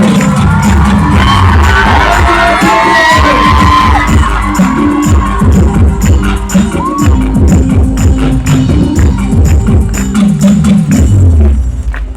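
A large crowd at an outdoor Christian worship festival on a school ground in Ranchi, Jharkhand, breaks into loud, sustained applause and cheering, with dense clapping and shouts that continue steadily throughout.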